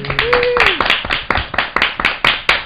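Someone claps on a talk-show interview set, a quick series of sharp, close hand claps in an uneven rhythm, with a brief voiced sound near the start.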